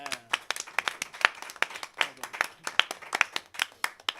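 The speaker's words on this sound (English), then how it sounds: "I'm going to ask that we give another round of applause to our players." Scattered applause from a small audience for the players of a live Fringe show, individual hand claps distinct and irregular, close and crisp with sharp separate slaps rather than a blended roar, plus a brief vocal sound early on.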